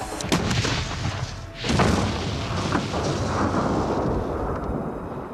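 A rigged explosive charge blasts a steel door open with a loud, close boom and heavy rumble, then a long rolling roar of debris and echo that trails off over several seconds, with no talk.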